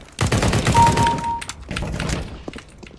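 Fast bursts of automatic gunfire in CS:GO, a rattling volley near the start followed by a second quieter burst and a few isolated shots, with no talking.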